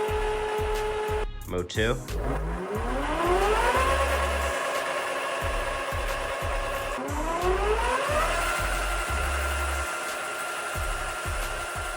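An electric bike motor whirs up through two speed modes, its whine climbing steadily in pitch, dropping back, then rising again, with brief clicks and someone talking over it.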